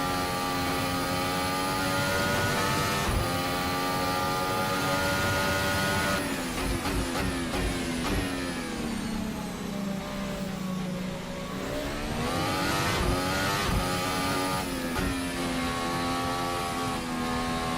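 Formula Hybrid race car at full power on a hot lap, its engine note climbing and sweeping through gears in a loud, continuous high-pitched wail with a brief dip and re-rise midway, close and steady throughout.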